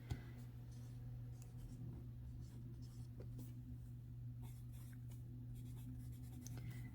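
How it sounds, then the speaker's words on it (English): Pen writing in a budget book, faint scratchy strokes in short bursts over a steady low electrical hum, quiet and close. "And I just write their like initials, I guess, since I know what they are."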